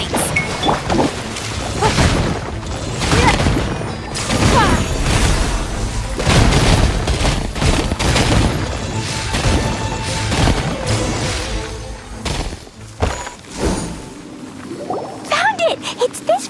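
Explosions in Genshin Impact gameplay go off as a series of loud booming blasts and crashes with shattering debris, packed densely before thinning out, with brief game sound effects near the end.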